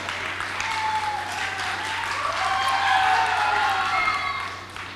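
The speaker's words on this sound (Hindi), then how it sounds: "जोरदार तालियां होनी चाहिए जी" Audience applause at a poetry gathering (mushaira) in Phoolpur, a dense sustained wash of many hands clapping that swells slightly midway and fades near the end.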